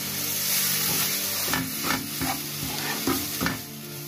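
Onion stirred into roasted spices in a pan, a constant close frying sizzle broken by a rhythmic series of about eight spoon scrapes in the second half.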